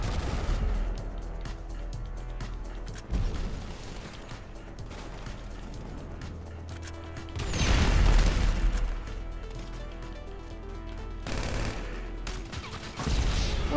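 Bursts of automatic gunfire and explosive booms from a Grand Theft Auto V team deathmatch, dense and continuous with louder volleys around the middle and near the end.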